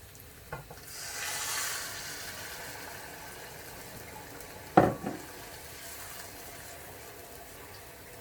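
Water is poured into a pan of sizzling onion fried rice and stirred. A soft rushing hiss swells early, then a sharp clank of a utensil sounds midway, with a quiet steady sizzle beneath throughout.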